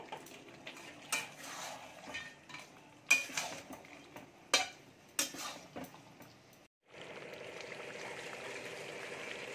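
A spoon scrapes and knocks against a pan while a paste of curd is stirred into chicken curry. The scattered, irregular strokes sit over a low sizzle that swells into a steady frying hiss toward the end, with no voices.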